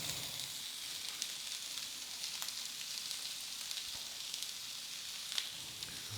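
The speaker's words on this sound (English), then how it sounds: "I'll go ahead and add the peppers, the celery, and the onions." Peppers, celery and onions sauté in a hot, smoking pan that had garlic in it, giving a steady, soft sizzle with faint crackles and occasional stirring ticks. No one talks.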